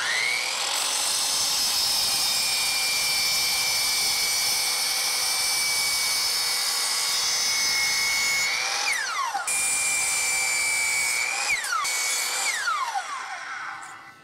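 A power saw runs steadily with a high whine as it cuts wooden blocks four inches long, its pitch dropping sharply at each cut around the end before spinning back up.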